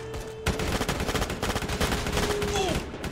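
Rapid bursts of gunfire from a Roblox rBREACH shooter game fire loudly and repeatedly, a close, sustained volley of shots with a brief tonal whine near the end.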